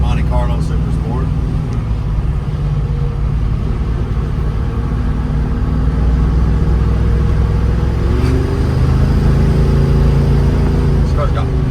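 1972 Plymouth Duster 340 V8 engine running loud and steady, with a deep mid-range rumble and a brief rev building near the end, close by with someone talking over it.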